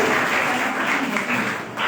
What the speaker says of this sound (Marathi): जोरदार टाळ्यांचा गजर या ठिकाणी आपण करणार आहोत